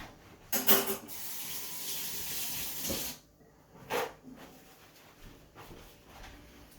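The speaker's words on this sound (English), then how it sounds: "So rinse my hands." Hands rinsed under a running kitchen tap while making guacamole, a close hiss of flowing water for a few seconds, then cutting off, followed by a few light clinks and handling sounds in a quiet room.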